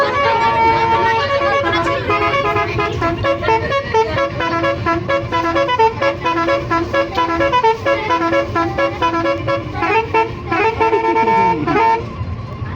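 A telolet bus horn blares a loud, close, musical melody, its repeated toots and tune patterns running almost continuously over a highway traffic rumble.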